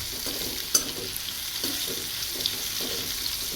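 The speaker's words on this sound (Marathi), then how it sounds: "थोडासा कांदा ब्राऊन होईपर्यंत आपण तळू देऊ." Onion frying in a pan until brown while bitter gourd stir-fry is cooked, a steady soft sizzle with faint scrapes of stirring and no talk.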